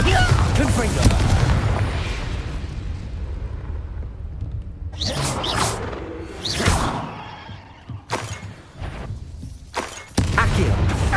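Spell blasts from the video game Hogwarts Legacy, with Bombarda and Confringo explosions: loud booming bursts and whooshing crackles in quick succession over a continuous rumbling game soundtrack, several distinct impacts spread across the passage.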